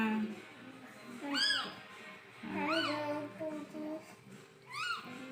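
A hungry cat cries for milk with three loud, drawn-out meows spaced a second or two apart, close by, with soft voices murmuring in the gaps.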